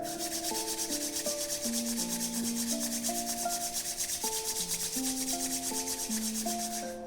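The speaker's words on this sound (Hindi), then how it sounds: "दोनों हाथ जोड़ लें, जोर से रब करें।" Hands rub together hard and fast during a meditation session, making a steady, close, continuous friction hiss over soft melodic background music.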